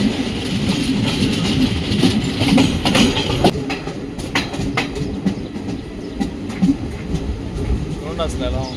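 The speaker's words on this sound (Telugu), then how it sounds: "మన ట్రైన్ అమరావతి ఎక్స్ప్రెస్ వచ్చింది, అలా స్టార్ట్ అయిపోయింది." The Amaravati Express pulling away from Madgaon railway station, its wagons rumbling and clacking over the rails in a dense, continuous roar with occasional sharp metallic clicks, heard from on board with faint voices in the background.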